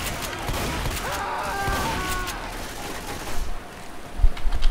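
Shotgun blasts and gunfire ring out in the Left 4 Dead 2 zombie game, a dense volley of shots with heavier bursts near the end, loud and close.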